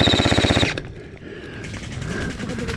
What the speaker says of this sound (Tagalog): Putok.